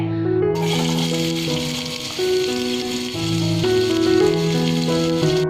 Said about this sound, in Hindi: इसमें अब मैं डालूंगी प्याज, ये दरमियानी कटी हुई प्याज है।